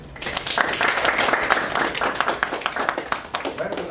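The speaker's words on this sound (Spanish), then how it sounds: "Un aplauso." A seminar audience claps after a mathematics talk is introduced, a dense, steady burst of many hands clapping in a hall that thins toward the end, with no voices over it.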